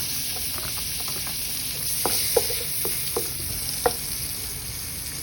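Garlic and onion fry in a pan with a steady, soft sizzle and a few light clinks of stirring, heard alone and fairly quiet.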